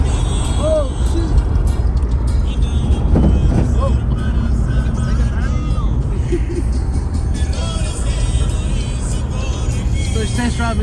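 An old box-body Chevy, a rusty barn find that sat for 21 years, rumbles on its first test drive with a steady, loud engine drone and road noise. People talk over it.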